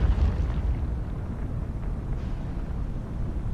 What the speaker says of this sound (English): Take a torpedo right to your hull and bam.